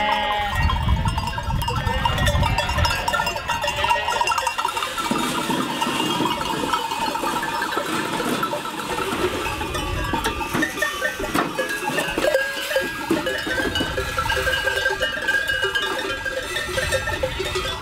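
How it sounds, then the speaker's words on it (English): Sheep and goats bleat in the mountains of Crete, mixed with clanking livestock bells, a busy, continuous chorus of calls near and far with no talking. "the sheep prefer to live here in the bottom, but the goats, they usually live up there in the mountains"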